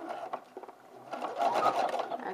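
A sewing machine stitches lining into a sleeveless dress, whirring in short runs that build into a steadier, louder burst near the end, close and alone.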